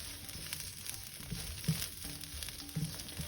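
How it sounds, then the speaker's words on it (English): Okra frying in oil in a pan while being stirred, a quiet steady sizzle with occasional soft scraping stirs, close and alone with no talking. "Make sure it's nice and covered in that oil to get a good fry."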